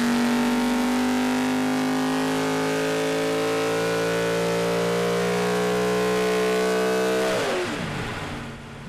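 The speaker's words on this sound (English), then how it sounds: "I just want to hear this engine sing." A powerful V8 Supercar race engine revs and holds a rising, sustained roar, then drops off sharply near the end as it fades away.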